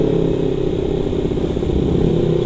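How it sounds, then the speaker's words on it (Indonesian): A Kawasaki Ninja motorcycle engine with a Proliner full system exhaust idles loudly nearby, a deep continuous rumbling burble with slight throttle variation and no speech over it. "Knalpotnya bisa kedengeran enggak? Knalpot pakai Proliner full system."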